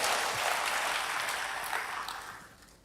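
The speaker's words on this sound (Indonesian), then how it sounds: "Berikan tepuk tangan bagi Tuhan." A church congregation claps in a broad, loud round of applause that fades gradually toward the end.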